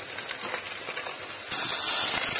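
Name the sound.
minced meat added to hot pan with browned onions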